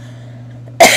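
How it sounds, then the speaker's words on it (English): A single short, sharp human cough bursts out near the end, loud against a quiet, low electrical hum. "still have a little bit of cough"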